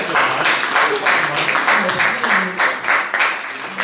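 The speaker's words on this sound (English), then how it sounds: "Can we have a round of applause?" A round of applause from an audience at an interview event, dense clapping that holds steady for a few seconds with faint voices mixed in.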